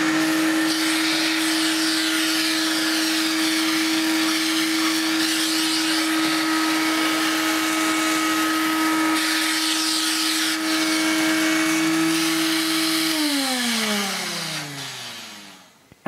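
A vintage Hooverette stick vacuum cleaner fitted with hose and crevice tool runs with a steady high motor whine, then is switched off and winds down toward the end; no talking.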